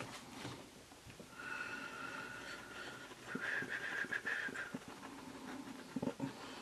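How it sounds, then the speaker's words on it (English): A woman yawns aloud during a relaxed colouring session, a drawn-out breathy exhale rising into a voiced sigh, close and moderately loud, with faint scratching of colouring pencils in the background. "I'm going to yawn. Excuse me."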